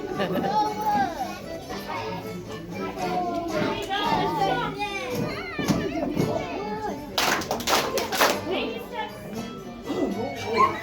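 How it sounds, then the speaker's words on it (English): Children in a music class stomp their feet and clap along with an instructor, a cluster of sharp thumps and claps sounding near the end amid children's voices and an adult talking. "We're gonna stomp our feet 3 times. So here we go. Stomp, stomp, stomp, and clap."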